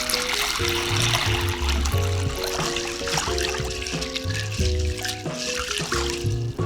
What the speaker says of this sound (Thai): เทน้ำเปล่าล้างถั่วแดงให้สะอาด